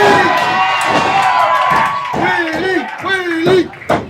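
A wrestling crowd at a JCW BadTime match cheers and shouts for Willy the Kid, loud and close, with children's voices and whoops rising in waves and a commentator talking over the noise.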